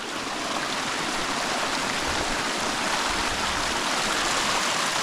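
A rushing creek pours steadily down a hiking trail near May Lake in Yosemite, a loud, continuous broadband wash of water close by with no voices.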